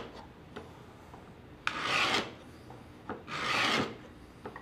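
A sharpened chisel or drawknife blade scrapes across wooden cutting-board stock, peeling off shavings in two long, rasping strokes. Light taps and handling noises surround them, close by and with no talking.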